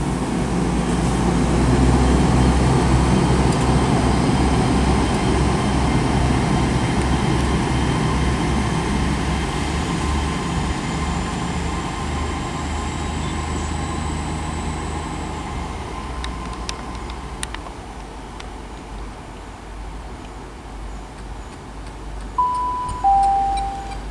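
Train departing Bristol Parkway station on the Great Western Main Line: a loud, rumbling engine and rolling noise close by that gradually fades as it pulls away, followed by quieter station ambience with faint tones near the end.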